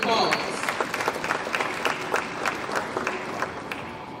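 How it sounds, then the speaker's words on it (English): Crowd applause at an SIAC football media day awards event, following the introduction of an award honoree; steady dense clapping with a few cheers and voices mixed in, moderately loud and fading slightly toward the end. "If we could give her a round of applause."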